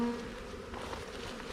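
Honeybees buzzing at a hive during an inspection after being shaken back in, a dense steady drone close by throughout, with no talk.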